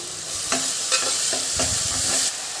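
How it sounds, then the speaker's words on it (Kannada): Finely chopped tomatoes sizzle in a pan for a bhindi masala curry, with a steady fry hiss and a few soft scrapes and knocks of a spoon stirring at close range. "ಎಲ್ಲ ಹಸಿ ವಾಸನೆ ಹೋಗೋವರೆಗೂ ಫ್ರೈ ಮಾಡ್ಕೊಳ್ಳಿ. 2 ಟೊಮೊಟೊ ಹಾಕ್ತಾಯಿದ್ದೀನಿ, ಸಣ್ಣದಾಗಿ ಹಚ್ಚಿಟ್ಟಿರೋದು"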